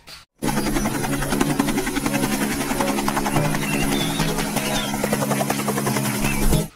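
A toy helicopter, set among assembled toy trucks and construction vehicles, gives a steady, loud electric buzz with a whirring hum that runs continuously for several seconds after a brief pause at the start.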